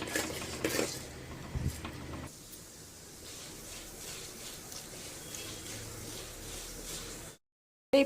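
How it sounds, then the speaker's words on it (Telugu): Mustard seeds tempering in hot oil in a pan for a Telugu-style fry, with metal stirring and scraping of a spoon against the pan, louder knocks early on, then a steady faint crackle and hiss before the sound cuts off near the end. "ఆవాలంతా ఇలా గోల్డెన్ కలర్ వచ్చేదాకా ఫ్రై చేసుకోవాలి"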